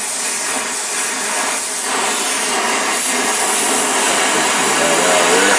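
Heating torch flame hissing steadily while a rod is heated to bend it, a continuous close broadband rush that swells slightly toward the end.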